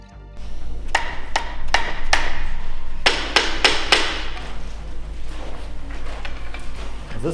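Sharp metal hammer blows strike a Lexus IS200 turbo engine block to free a blown, bent connecting rod, a few spaced hits then a fast cluster of heavy, ringing impacts, loud and close.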